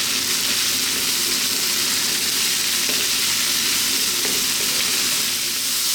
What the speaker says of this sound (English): Now I'm going to get in our mushrooms, my white fresh mushrooms, and again high heat, keep stirring 2 to 3 more minutes.